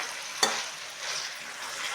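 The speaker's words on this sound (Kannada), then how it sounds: "ನೋಡಿ, ಈ ಥರ ತರಕಾರಿ ಬೇಯ್ತಾ ಇದೆ." Vegetables and soya chunks cooking in a pan give a steady soft sizzle, with one sharp stir or scrape near the start and then an even hiss for the rest.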